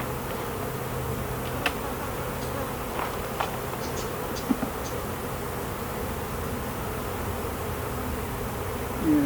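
Agitated honeybees swarming around an opened beehive during a varroa inspection, a dense steady buzz with occasional louder passes close by, no talk.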